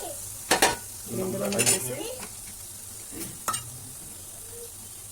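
Spices frying briefly in a pan for rice, with stirring clatter and a soft sizzle under a few spoken words and broadband bursts.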